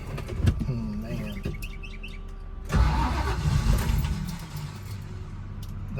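A Dodge Charger engine cranks with a rough, rising rumble and then dies away, recorded up close outdoors with birds chirping faintly in the background.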